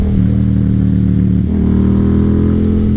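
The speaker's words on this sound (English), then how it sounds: "I can never get enough of those burbles. especially at low RPMs." A Yamaha FZ-07 motorcycle engine burbles at low RPM, a loud, close, continuous throbbing hum that deepens slightly partway through.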